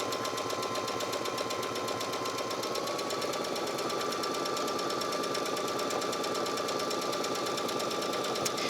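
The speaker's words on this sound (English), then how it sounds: "And then we're going to continue to stitch all the way around the outside of this circle." A sewing machine runs steadily for the whole stretch, stitching around the outer edge of a fabric circle for a drawstring makeup bag, its rapid needle rhythm loud, close and unbroken.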